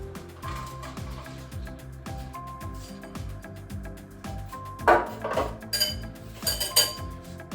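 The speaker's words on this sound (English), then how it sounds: "So we can just mix that, turn it over, combining the egg with the cheese" A fork clinks and scrapes against a bowl while mixing eggs with parmesan cheese, a fast rhythmic tapping and stirring up close, with a few sharper metallic clinks toward the end.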